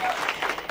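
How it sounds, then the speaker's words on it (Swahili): A congregation at a Catholic church choir's Ascension Sunday service breaks into applause, a brief, dense wash of many hands clapping at moderate distance. "Makofi kwangu."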